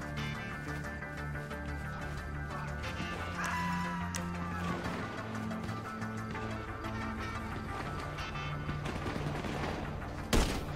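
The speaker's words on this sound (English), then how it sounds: "Dude, they're shooting me from every direction." Dense, sustained gunfire from GTA 5 Online, a multi-directional firefight with rapid overlapping shots and a sharp loud blast near the end, set against a continuous game music bed.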